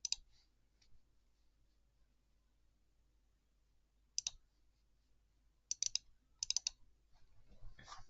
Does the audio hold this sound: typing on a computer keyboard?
yes